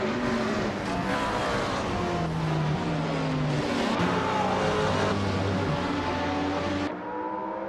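A classic 2011 Peugeot 908 LMP900 prototype race car's engine drones loudly and steadily in a racing video game, with shifting pitch as it accelerates, then the sound cuts off sharply near the end.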